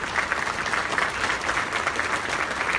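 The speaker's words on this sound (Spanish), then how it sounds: "quien pide un aplauso, por favor" An audience at a public-sector project management awards ceremony breaks into steady, full applause, dense clapping at an even level for the whole stretch, with no speech over it.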